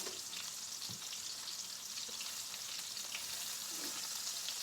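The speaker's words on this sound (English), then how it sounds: "you're going to just let these mackerels cook until they brown on the bottom" Mackerel fry in a pan with a steady, dense sizzle that holds close and fairly loud throughout, without any talking.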